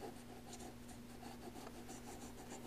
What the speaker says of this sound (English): I'm just burnishing this whole image that I put oil of wintergreen on the back